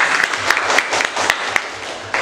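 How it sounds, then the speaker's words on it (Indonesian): A classroom group claps for group 4 in a short burst of applause, steady scattered clapping with no one speaking. "beri tepuk tangan untuk kelompok 4"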